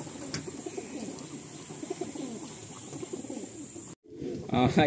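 Pigeons cooing in a loft, including a rare Laljiriya male, with steady low rolling coos throughout, a constant high hiss behind them, and a brief drop to silence before the cooing returns louder up close.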